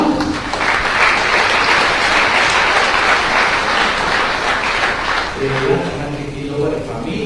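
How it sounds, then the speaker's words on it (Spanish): An audience at a community gathering in Salinas Magdalena, Sacapulas, Quiché, Guatemala, bursts into loud, dense applause that fades as a voice and some music come in near the end. "un fuerte aplauso."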